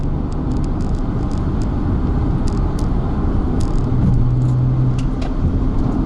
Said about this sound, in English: Of course, most of it is because of this engine